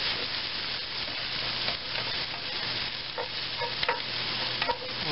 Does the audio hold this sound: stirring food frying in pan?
yes